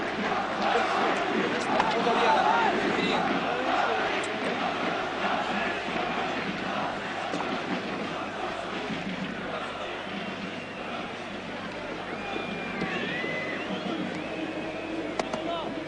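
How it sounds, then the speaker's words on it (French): Stadium crowd roaring and cheering steadily at a 1992 Champions League match in Marseille as Olympique de Marseille striker Alen Boksic leaves the pitch, a broad loud swell of voices that eases slightly over time. "Alen Boksic qui sort sous les vivas de la foule"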